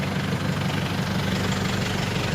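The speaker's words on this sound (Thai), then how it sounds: "ฟังเสียงเครื่องด้วยนะครับ เครื่องยนต์เดินนิ่มๆนะฮะ" A 2012 Isuzu D-Max Cab4 2.5Z pickup's diesel engine idles smoothly, a steady low rumble with even knock and vibration, heard close and continuous with no talk.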